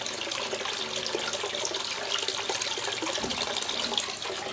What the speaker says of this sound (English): it's just reached the point where it's starting the siphon.